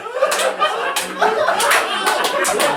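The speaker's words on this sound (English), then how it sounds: "but round of applause" A comedy club audience breaks into a round of applause mixed with snickers and chuckles, scattered claps rising and falling over a couple of seconds with a lively crowd murmur.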